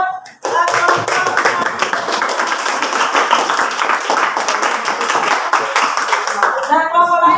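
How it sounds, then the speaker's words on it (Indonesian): A classroom group claps for a fellow group after their presentation, brisk close-up hand clapping that starts abruptly and runs for several seconds before fading as a voice resumes. "tepuk tangan dulu buat kelompok"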